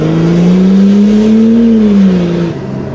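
A turbocharged Holden VL engine revs up under boost, its loud droning note climbing, holding, then dropping off as the throttle closes, heard close by with no talk.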